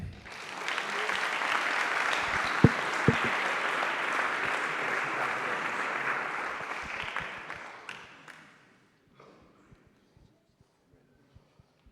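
Audience applause at a Braintree town council meeting: a dense, steady burst of clapping from a crowded room that holds for about eight seconds, then quickly dies away into near silence.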